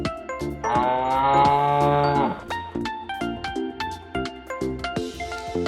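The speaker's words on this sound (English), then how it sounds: "The sound of cow." A cow moos once in a loud, sustained low call lasting well over a second, followed by lighter rhythmic tonal background sounds and no talking.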